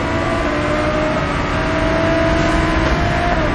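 A racing car engine in BeamNG Drive holds a steady, loud droning roar with a sustained tonal whine, close and continuous with no talk.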